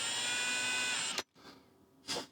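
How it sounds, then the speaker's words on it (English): A 6mm drill grinding steadily into white plastic heat-staked posts inside a Starlink router, a continuous whine that stops suddenly, followed by faint brief handling noises. "We need to drill all of these white plastic heat-staked posts"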